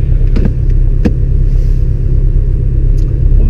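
A Porsche Cayman S pulls away gently in drive, a loud, close low engine rumble filling the cabin with a few faint clicks over it.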